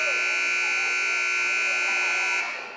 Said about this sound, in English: the buzzer's still sounding.